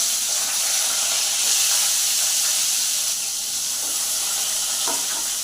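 Potato pieces frying in hot oil tempered with nigella seeds, giving a loud, dense, continuous hiss and sizzle that holds steady throughout, close by with faint scraping near the end and no talk.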